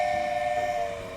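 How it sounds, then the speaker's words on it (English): Steam-style train whistle in the OpenTTD video game, a single sustained tonal blast, fairly clean and steady, fading slightly at the end. "Lorella wants a train whistle"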